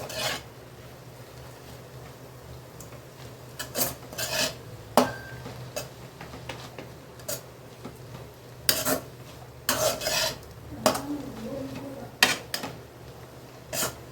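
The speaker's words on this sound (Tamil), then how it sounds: "தேங்காய் போட்டு 1 நிமிஷம் கிளறி விட்டு இறக்கிடலாம்." Grated coconut stirred into a banana flower and drumstick leaf stir-fry in a pan, with intermittent scraping, rubbing strokes of a spoon against the vessel, close and fairly quiet, no talking.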